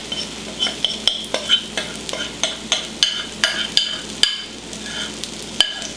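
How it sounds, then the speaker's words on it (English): Sourdough discard pizza crust dough goes into a hot skillet and sizzles in a constant hiss, while a utensil scrapes and taps the pan in a quick, irregular rhythm, loud and close. "into the hot skillet here. You can hear it sizzling."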